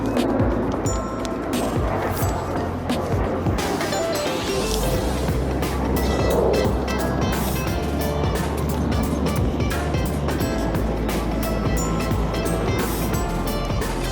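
Aerobatic display jets at the Dubai Expo 2020 airshow for UAE National Day, their engines producing a loud, steady broadband roar that fills all fourteen seconds without a break.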